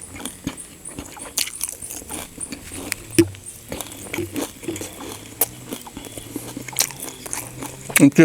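Crispy pork belly and cooked shrimp in a miang leaf wrap with fresh vegetables being bitten and chewed: close, repeated crunchy bites and chewing, with a voice faintly present in the background.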